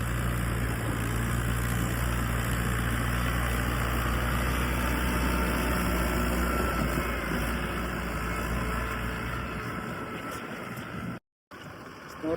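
A Sonalika 40 HP tractor engine runs steadily at idle with a deep, even chug, close and continuous, then cuts out briefly near the end.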